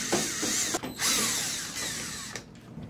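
Small power driver unscrewing roll cage screws from the Lexan body of a Primal RC Grave Digger monster truck, a close, continuous whirring buzz with brief pitch shifts and short pauses between runs.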